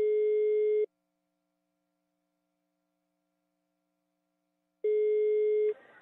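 A telephone line tone on a radio prank call sounds as two steady, clear beeps just under a second long, separated by about four seconds of silence.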